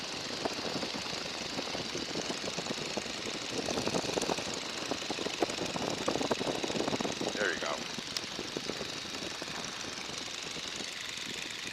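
Throttled-back Stearman biplane radial engine droning at reduced power in flight, a loud steady rumble with rapid knocking pulses filling the cockpit, while people talk over the noise.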